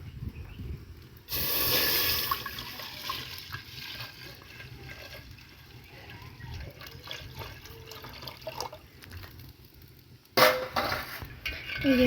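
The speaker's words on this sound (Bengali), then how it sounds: "দিয়ে দিচ্ছি 2 লিটার দুধ।" Two litres of milk pour into a cooking pot in a steady liquid rush that starts abruptly, with small clinks and kitchen noises following and a second brief splash near the end.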